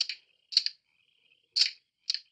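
Short metallic clicks from a small clicker in a war scene set in German territory: four crisp double-clicks in an irregular rhythm, close and isolated against silence.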